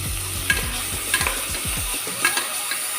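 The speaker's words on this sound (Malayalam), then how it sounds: "അതിനോട് ചേർത്ത് ഇഞ്ചി വെളുത്തുള്ളി പേസ്റ്റ് നമ്മൾ ഇടുക." Ginger garlic paste frying with browned onions for beef biryani, a steady close sizzle broken by repeated scraping stirs of a spoon against the pan, alone with no talk.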